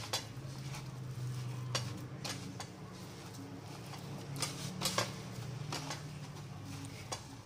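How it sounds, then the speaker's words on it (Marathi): Spoon mixing cucumber vada batter with salt in a bowl: scattered light clinks and taps against the bowl over a steady low hum, close and moderately quiet. "यामध्ये चवीनुसार मीठ टाकूया, कमी जास्त करू शकता, आणि हे सर्व मिक्स करून घ्यायचं"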